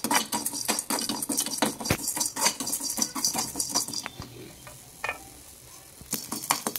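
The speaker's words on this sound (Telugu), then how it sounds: "ఇలా వేయించుకోవాలండి." Onions, dried red chillies, cumin, coriander seeds, urad dal and chana dal dry-roast in a pan with a light sizzle as a spoon stirs and scrapes the metal in quick repeated clinks, then fades to a quieter crackle.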